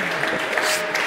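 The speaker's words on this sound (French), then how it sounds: "je vous demande de l'applaudir" Brief, loud burst of applause from an audience at a talk on sports training, a dense continuous clatter of many hands lasting about a second with no voices over it.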